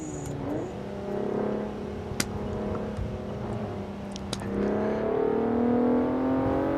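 A Volkswagen Jetta accelerates on a drive, its engine note climbing steadily through the gears with a shift partway through, heard from inside the car as a moderate hum with road noise.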